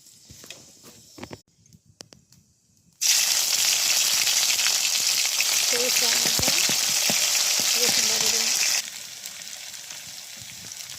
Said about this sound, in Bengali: শুকনো মরিচ দিলাম তেলের ভিতর